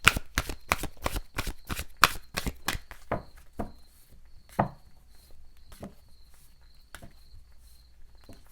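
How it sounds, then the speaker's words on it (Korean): Tarot cards shuffled quickly by hand in a fast run of crisp riffling slaps that slows into a few scattered taps, with a faint high insect-like tone in a quiet room. "추가 카드를 제가 뽑아보도록 할게요"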